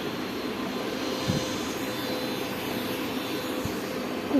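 A small handheld electric fan runs close by, giving a steady whirring hum with airy rushing noise that holds level throughout, with no voices.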